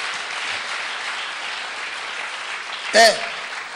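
Church congregation applause, a soft sustained patter of many hands, broken by a brief louder voice near the end.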